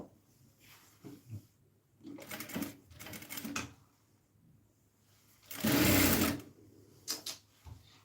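A sewing machine stitching a folded kameez hem runs in several short bursts, with a longer loud run near the end and a couple of quick stitches after it, close and clear over a quiet room.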